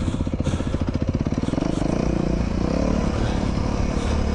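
A Beta 390 RR-S dual sport motorcycle ridden through the hills of the El Mirage OHV Area, its engine loud and close, pulsing then settling into a steady, rough drone with clattering underneath.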